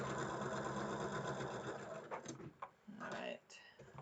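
A sewing machine runs steadily while stitching quilt blocks, a continuous whirring hum that gives way to a few soft clicks and handling noises near the end.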